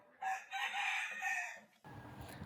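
A rooster crows loudly and close on a rooftop where chickens are kept, one long drawn-out call followed by a burst of rustling noise.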